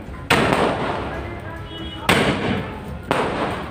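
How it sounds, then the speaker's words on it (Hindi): Three loud firecracker blasts nearby at a celebration of a BJP election win in Haryana, India, spread unevenly across a few seconds, each a sharp crack followed by a fading rumble. "पटाखे बज रहे हैं।"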